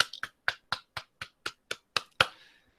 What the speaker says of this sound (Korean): 한번 박수로 환영해 주시기 바랍니다